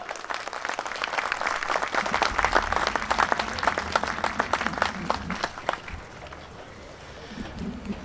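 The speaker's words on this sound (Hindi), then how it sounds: "आपकी तालियों के गूंज में हमारा और आपका भाई अंसर महमूद गोंदल" An audience at an annual general meeting of a housing society gives rousing applause welcoming a speaker, dense clapping building over several seconds before fading out, leaving a quieter room with faint murmurs.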